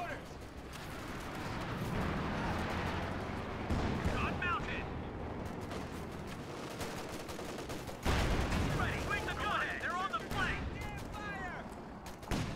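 Anti-tank guns fire in a Company of Heroes 2 battle, with heavy booming shots and rumbling impacts over dense battlefield noise, a couple of louder blasts standing out amid continuous gunfire and clatter.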